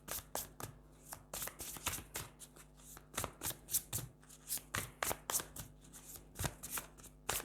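Tarot cards being shuffled by hand, a rapid run of crisp riffling bursts in an uneven rhythm, close and fairly quiet, with no talking.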